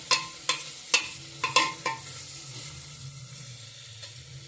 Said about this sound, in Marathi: मटण टाकलेलं आहे.